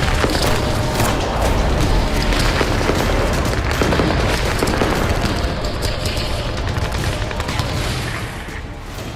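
Heavy gunfire rings out during a clash between Israeli forces and Hamas fighters in Jenin, a dense, continuous barrage of loud shots and bursts lasting several seconds before easing slightly at the end.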